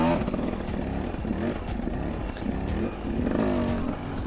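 A dirt bike engine revs under twists of the throttle, a loud, close motor burble that rises and falls in short bursts, with clattering over a rumbling low end and no talk.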